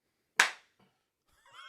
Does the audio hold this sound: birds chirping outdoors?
no